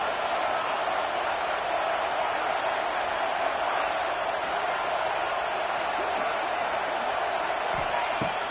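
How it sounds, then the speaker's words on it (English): A football stadium crowd at an Indiana versus Penn State game keeps up a dense, steady roar throughout, with a few faint thuds near the end. "This crowd bringing the energy and noise early."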